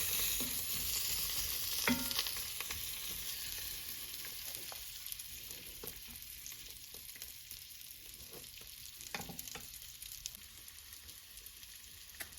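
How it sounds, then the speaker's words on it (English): Vegan fake meat sizzles and fries in a pan, a steady crackling hiss with occasional stirring scrapes, fading slightly over time. "We're gonna put our fake meat in to quote unquote brown for a few minutes."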